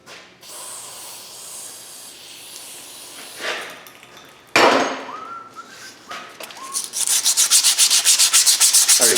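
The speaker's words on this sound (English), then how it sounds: "So we're gonna take the Whizzy wheel, we're gonna clean this up." A whizzy wheel scours rust from a corroded Subaru rear wheel bearing hub, with bursts of loud abrasive rubbing and hissing, then a steady, pulsing grind toward the end, with no voices.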